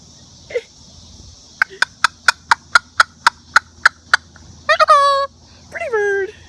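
A Moluccan cockatoo gives a rapid run of about a dozen sharp, evenly spaced calls, then two louder drawn-out squawks, close and clear over a quiet room.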